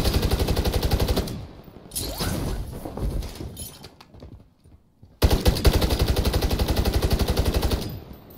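Rapid automatic gunfire in MWIII Zombies, loud and close in dense repeated bursts, dropping away for a few seconds midway before another sustained burst of rattling shots.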